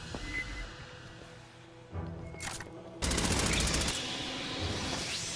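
In the shooter game Aliens Fireteam Elite, a machine gun fires a sustained rattling burst after some quieter background game noise, loud and dense, with no voices.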